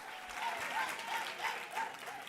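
A convention crowd applauds and cheers for Casey at a national childcare gathering, continuous clapping with swells, and a faint repeating tonal call riding over it.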